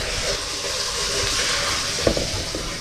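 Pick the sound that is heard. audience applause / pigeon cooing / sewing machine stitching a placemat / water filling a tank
water filling a tank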